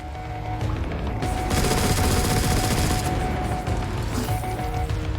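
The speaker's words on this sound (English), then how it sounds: "it turns out I'm really a fan of this machine gun" Sustained machine-gun fire in Destiny 2: The Witch Queen: a dense, loud, continuous stream of rapid shots with booming impacts, running alone for about five seconds.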